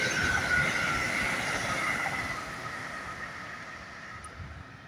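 An LNER Class 801 Azuma train passes at Darlington station on a service to Edinburgh, a steady, moderately distant rumble and whine that slowly fades, with no voices.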